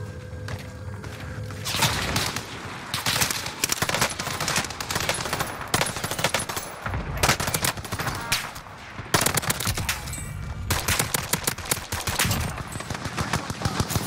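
Enemy gunfire in Call of Duty Warzone on Rebirth Island, sharp bursts and rapid automatic volleys cracking repeatedly, loud and close, with brief pauses between strings of shots.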